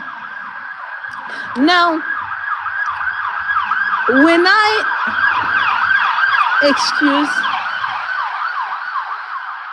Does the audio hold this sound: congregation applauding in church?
no